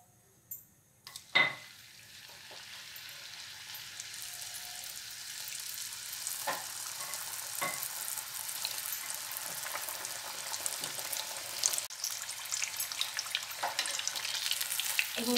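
Paneer samosas deep frying in hot oil, a steady bubbling sizzle that builds and stays dense throughout, with a few clinks and clatters near the start.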